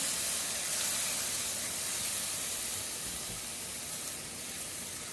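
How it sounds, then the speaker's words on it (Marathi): Finely chopped tomato fries in hot oil in a pan of banana flower sabji, giving off a steady, soft, continuous hiss and sizzle with no talking. "हे बघा आता एक मीडियम साईजचा टोमॅटो बारीक चिरून मी त्याच्यात टाकते"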